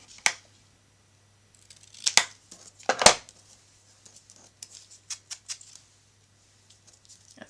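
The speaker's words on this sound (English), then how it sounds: "so I'm just going to cut this a little bit shorter" Scissors snip through a paper tag for a craft project, giving a few sharp, close cuts spaced out in time, followed by a string of lighter, quicker snips over a quiet background.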